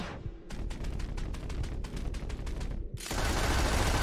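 Dual pistols firing in rapid succession in Red Dead Redemption 2, a loud burst of evenly spaced sharp shots lasting a couple of seconds, then a dense roaring wash of noise.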